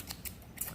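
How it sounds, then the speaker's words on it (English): Scissors snip through looped yarn while a pom pom is being made: three quick, faint, crisp cuts spaced evenly within a second, close to the ear. "you just want to get your scissors, snippy snip, and then you just want to cut all the loops"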